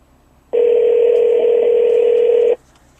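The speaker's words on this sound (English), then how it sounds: "It makes the phone call." A 2012 Toyota Entune in-car phone system dialing a call: a single steady electronic tone, clean and loud, holding for about two seconds against a quiet cabin.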